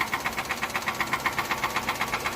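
A Nissan Sunny engine runs with a steady, rhythmic knocking, a regular metallic tapping repeating several times per second over the idle.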